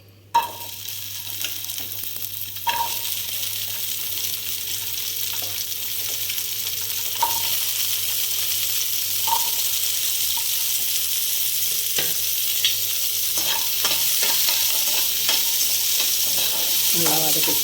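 Onions and tomatoes hiss and sizzle steadily in hot oil, with a spoon or spatula scraping and clinking against the pan now and then, close and continuous with no talking.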